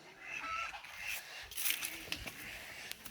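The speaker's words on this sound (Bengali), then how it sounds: "ওইটা একটা হাঁস" A duck calls out near a village pond, a few short honking squawks scattered over rustling outdoor background, fairly close and not loud.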